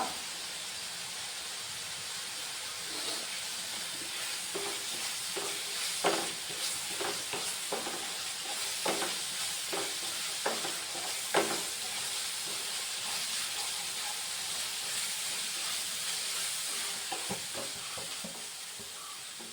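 Curry leaves dropped into a simmering fish curry crackle and sizzle in a steady, continuous hiss with faint bubbling and occasional stirring clicks, close and alone without talk.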